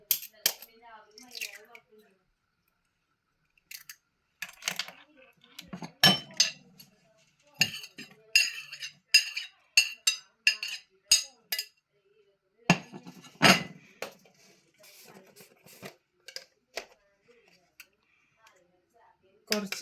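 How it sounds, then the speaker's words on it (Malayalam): Ragi omelette batter with salt being stirred in a bowl: a run of sharp spoon-on-bowl clinks and taps in uneven bursts, close and fairly loud, with quiet gaps between strokes. "കുറച്ച് സോൾട്ടും ഇട്ട് മിക്സ് ചെയ്യുന്നുണ്ട്."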